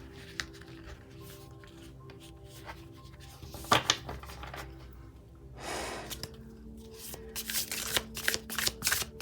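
A tarot card deck being shuffled, with bursts of riffling and flicking cards, a sharp snap near the start, then a run of quick close shuffles toward the end, heard alone against a quiet room.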